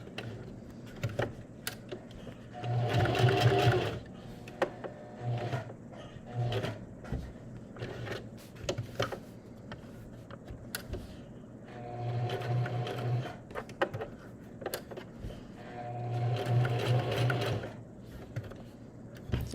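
A sewing machine stitches around a small felt mask piece in quick bursts of rapid chattering. Frequent stops and starts for pivoting leave quieter handling clicks between runs, all close by.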